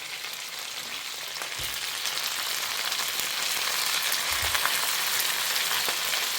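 Eggplants, left whole, frying in a pan of oil for a spicy Tamil kara kuzhambu, giving a steady broadband sizzle throughout with a couple of soft low knocks from the pan.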